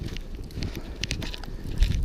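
Gusty wind during a New York snow blizzard buffets the microphone in a close, rumbling roar broken by crackling bursts, with no talking.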